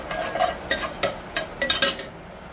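Urad dal, chana dal and mustard seeds frying in oil on a tawa for a tempering, with a light crackle under quick, repeated scraping and clinking strokes from a stirring spoon, close by and with no speech.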